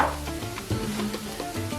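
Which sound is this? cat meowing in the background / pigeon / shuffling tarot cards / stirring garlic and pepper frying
stirring garlic and pepper frying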